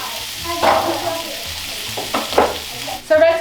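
Cut plums go into a hot skillet and start to sizzle, a frying hiss with a few stirring clatters and scrapes, close and fairly loud.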